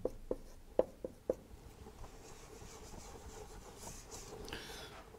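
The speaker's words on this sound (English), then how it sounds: "let's write that term down here" Maths working is written by hand, opening with a few sharp pen taps and strokes, then soft continuous scratching of writing on paper in a quiet room.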